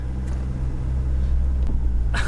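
A Ford Fiesta RS Turbo pulling away, its engine a loud low rumble inside the car, with a brief burst of higher noise right at the end.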